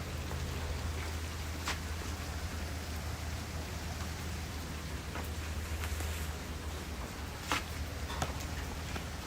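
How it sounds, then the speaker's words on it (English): Rain falling outside on a cold evening, a steady hiss of drops with a low rumbling undertone and a few sharper taps near the end, with no voices. "Oh, it's raining pretty good."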